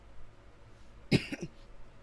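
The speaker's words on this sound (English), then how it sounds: "I had a little coughing attack" A single short cough, with a quick throat-clearing catch after it, sounds nearby against a quiet background.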